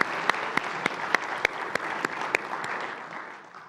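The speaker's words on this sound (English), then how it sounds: "she really deserves a very warm round of applause for the work" A warm round of applause at a diplomatic colloquium, steady crowd clapping with several sharper, louder claps standing out near the start before the sound gradually thins and fades.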